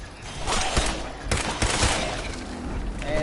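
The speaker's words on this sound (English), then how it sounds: "I like to go ahead and take out these machine gun turrets." Machine gun turrets in Fallout rattle off rapid bursts of gunfire, with several sharp loud cracks over a dense noisy in-game background.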